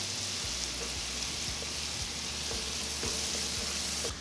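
Chopped shallots sweat in melted butter in a pan, giving a steady, even sizzle and crackle with small pops, close and continuous, no voices.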